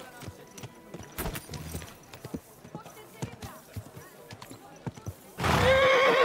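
A horse gives a loud, close whinny near the end, after a run of scattered hoof clip-clops and knocks, with people talking and exclaiming around it.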